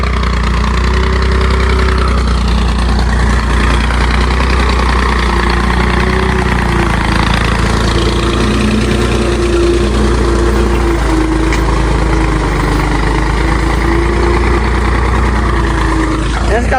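An old working tractor's engine idles close by, a loud continuous low throb with a steady hum that holds for the whole stretch, with someone talking over it.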